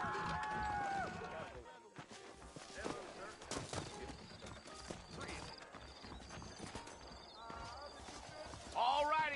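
Horse hooves clip-clopping in the Red Dead Redemption video game, irregular close hoofbeats mixed with game sounds, a whinny and characters talking.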